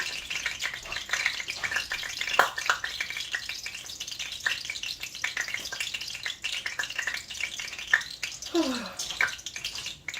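Fish frying in hot oil, with a steady crackling sizzle, sharp pops and spits scattered throughout, and a brief rising scrape or stir near the end.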